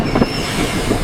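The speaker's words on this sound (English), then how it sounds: "The train is on time." A train rumbles steadily nearby, with a continuous low roar, faint wheel squeal and a couple of soft rhythmic clacks.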